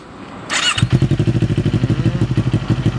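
A starter whirs briefly, then a Kawasaki Z400 two-cylinder motorcycle engine catches and settles into an even, throbbing idle, loud and close.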